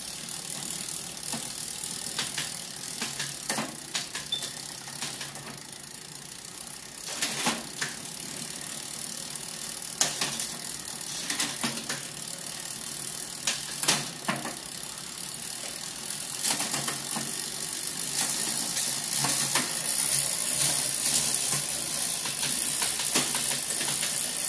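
A Vietnamese Battle mountain bike with a 3-chainring, 30-speed drivetrain gives off a steady, close ticking and clicking from its freewheel, with sharper mechanical clacks scattered throughout.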